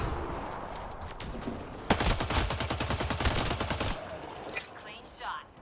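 Rapid automatic gunfire from a shooter video game, a dense sustained burst lasting about two seconds after a few scattered shots, followed by quieter game effects, with no talking.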